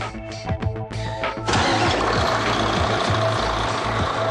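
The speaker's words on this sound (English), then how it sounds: "And start the engine." A vehicle engine starts in a workshop with an exhaust extraction hose attached: a few cranking pulses, then it catches and settles into a steady, loud idle.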